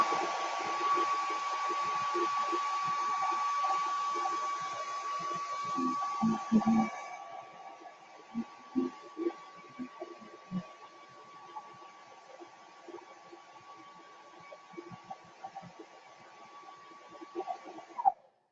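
A hair dryer blows steadily to dry paint on stars for a stars-and-stripes transfer, a loud constant whoosh with a thin whine that cuts off partway, followed by quieter scattered handling knocks and a short final burst.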